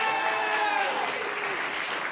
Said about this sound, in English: So by your applause, who would we like to stay?